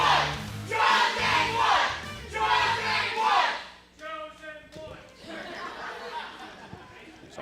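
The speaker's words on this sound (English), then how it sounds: "Oh, the crowd getting them fired up." Crowd at a ProSouth Wrestling event cheering and yelling, loud and close, a rising roar of many voices, then a rhythmic stretch of clapping and chanting with scattered shouts.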